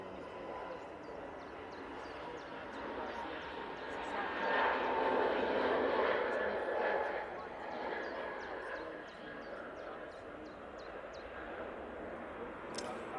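A jet airliner departs Manchester Airport for Lanzarote, its distant, soft roar swelling midway and then receding, with faint background voices.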